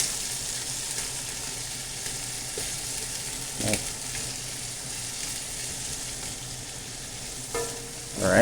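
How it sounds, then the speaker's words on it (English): Garlic and white onion fry in a pan with a steady, close sizzle, broken by a few scraping stirs near the start and end. "Stir that around and add our garlic. And then let's just cook this for about a minute."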